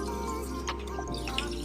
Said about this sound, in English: wet your face with warm water